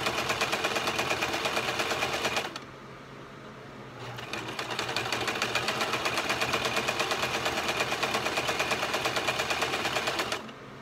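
A sewing machine stitches a satin headband bonnet with a steady, rapid mechanical whir. It runs loud and close, stops for about a second and a half, then starts again for a long continuous run.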